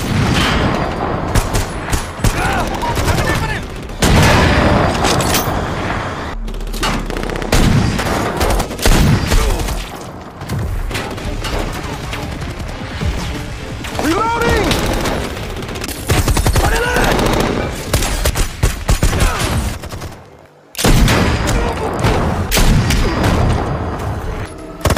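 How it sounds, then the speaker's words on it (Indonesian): Dense, chaotic gunfire from a film's military hostage-rescue scene on a remote island crackles and booms continuously with bursts of rapid shots and heavy thumps, loud and close, briefly pausing near the end. "dan langsung melepaskan tembakan."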